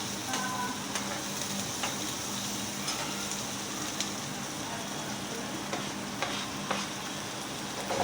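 Onion, coriander and chilli sautéing for poha, a continuous bright sizzle with occasional spoon taps and stirring scrapes, steady and close throughout.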